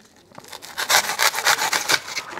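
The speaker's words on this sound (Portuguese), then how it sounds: "então eu vou cortar um pedaço do isopor" Styrofoam block being cut into a piece for an orchid pot, giving a rapid series of scratchy, rasping strokes, close and fairly loud, with no talking.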